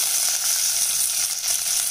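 Onions sizzling in hot oil after a tempering of mustard seeds, curry leaves and chopped green chilli, for a cauliflower kichadi; a steady, close, loud frying hiss runs throughout with no talking.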